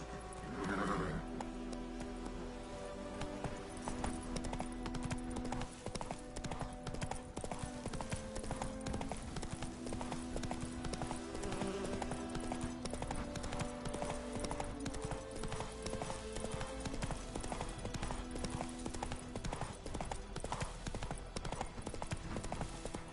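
Roach the horse trotting in The Witcher 3: Wild Hunt, a steady clip-clop of hooves throughout with an occasional whinny, set against a continuous game music bed.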